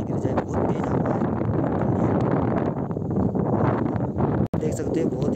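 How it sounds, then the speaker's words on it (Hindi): Strong wind gusts across a rocky hilltop, roaring steadily into the microphone, while people can be heard talking under the blustering noise. "हवा चली हुई है तो डर लगता है कि ना गिर जाए, बहुत तेज हवा है"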